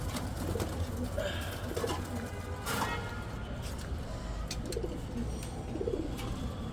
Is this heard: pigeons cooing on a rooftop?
yes